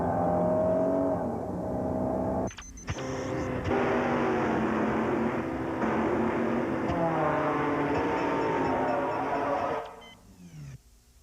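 A Honda Accord accelerates hard, its engine note rising and sweeping loud and up close for several seconds, dropping out briefly, then surging again before fading quickly at the end.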